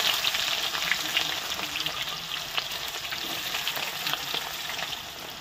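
Chopped onions frying with cumin in a generous amount of oil, ready for mutton curry, a bright continuous sizzle with light crackles that eases slightly at the end.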